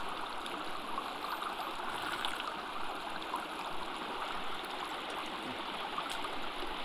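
A flowing stream in the video game Sons of the Forest gives off a continuous, even rush of water that holds steady throughout, with no other sounds.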